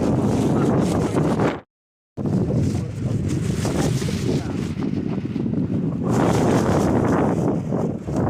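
A boat out in the middle of a river in the Sundarbans, with loud, steady wind buffeting the microphone and a broad rushing roar that continues throughout, broken by one short drop to near silence.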